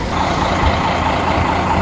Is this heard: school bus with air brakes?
yes